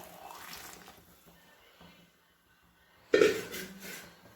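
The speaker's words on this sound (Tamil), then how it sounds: "நல்லா கொதிக்கிற தண்ணி வந்து ஆட் பண்ணியிருக்கேன்." Boiling water pours into a pot of rice for methi pulao, a sudden splashing gush near the end after quieter kitchen sounds, fairly close and loud.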